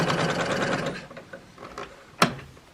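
A sewing machine stitches quilting lines through a quilt-as-you-go square fabric coaster, a quick, close rhythmic whirring that runs for about a second and then fades into a few faint mechanical clicks and a single sharp tap.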